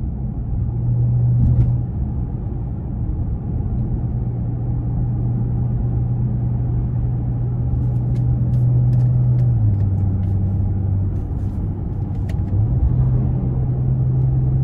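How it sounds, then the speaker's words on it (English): A 2017 Maserati Ghibli SQ4's deep exhaust rumble drones steadily throughout, loud and close, with the low note dipping and rising slightly as the engine settles. "That exhaust sounds awesome."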